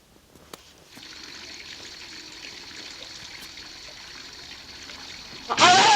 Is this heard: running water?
yes